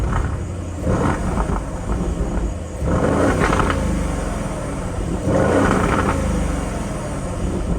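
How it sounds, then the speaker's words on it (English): An exotic sports car with a crackle-and-pops exhaust tune rumbles and revs close by in several throaty surges, its deep engine drone rising and falling with a few sharper bursts. "So this is supposed to be like a crackle pops and crackle tune"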